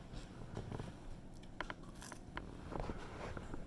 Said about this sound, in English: She's eating Granny's hot and spicy pickles.